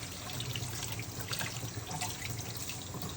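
Tap water runs steadily into a sink while a pot that held squash is rinsed out, a close, continuous splashing hiss with slight fluctuations and no voices.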